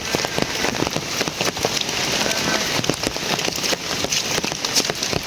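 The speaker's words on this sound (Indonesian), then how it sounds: "Hujan deras melanda teman-teman ya." Heavy rain pours down outside a simple house far from other homes, a dense, constant hiss of drops drumming on surfaces with scattered louder splats, close and loud throughout.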